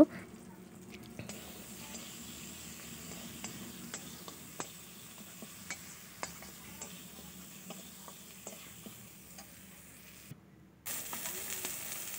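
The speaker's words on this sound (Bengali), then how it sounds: "দিয়ে দিচ্ছি লঙ্কা গুঁড়ি আর হলদি গুঁড়ি পরিমাণ মতো, দিয়ে এটাকে ভালো করে নেড়ে নেব" Tomato masala with chili and turmeric powder stirred in a pan, faint hiss with regular light ticking spoon scrapes, and a louder burst of sizzling near the end; no talking.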